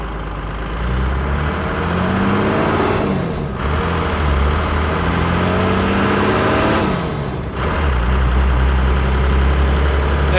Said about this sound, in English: I don't know if you guys can hear that turbo, but it makes me smile.